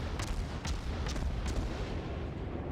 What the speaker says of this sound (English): he is using his guns on this Izumo, and what he's doing is quite dangerous